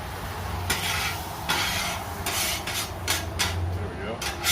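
Butter sizzling in a hot pan still slick with sausage grease, a steady hiss with scraping, stirring clatter and a few sharper bursts.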